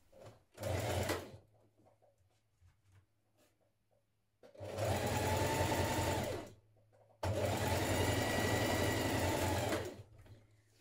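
A sewing machine stitches sweater shoulder seams in three loud close bursts, a brief one followed by two longer runs of about two and three seconds, with near silence between them.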